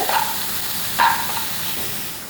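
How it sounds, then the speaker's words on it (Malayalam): Three small onions sautéing in a pan for chicken cutlets: a soft, steady sizzle with a brief louder stir of the pan near the start and again around the one-second mark. "ചെറിയ മൂന്ന് സവാളയാണ് എടുക്കുന്നത് ഇതൊന്ന് വഴറ്റിയെടുക്കാൻ നന്നായിട്ട്"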